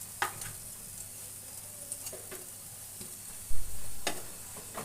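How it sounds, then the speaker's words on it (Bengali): Radish pakoras frying in hot oil until crisp, a steady soft sizzle with a few brief stirring clatters and a low thump near the end, no voices. "দুই পাশেই একদম লালচে করে মুচমুচে করে ভেজে নেব।"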